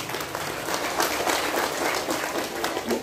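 A crowd at a parenting talk bursts into dense, sustained applause for a child's answer, loud and continuous from start to finish.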